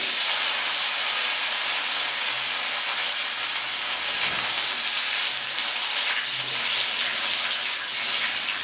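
Potatoes with black cumin and slit green chillies frying in hot oil, a loud, steady broadband sizzle and hiss with no talking.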